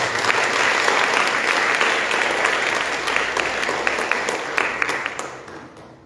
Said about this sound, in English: our musicians today really deserve a round of applause